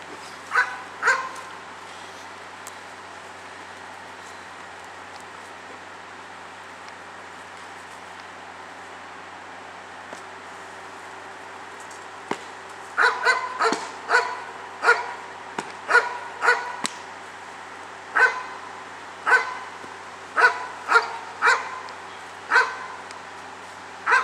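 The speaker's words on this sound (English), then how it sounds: "It's such a big giant of a dog. You gotta work it soft mouth. Work it soft. Well, that's a shepherd." A large shepherd dog barks in repeated sharp bursts, a few early then a steady run of barks in the second half, fairly close and loud over a quiet background.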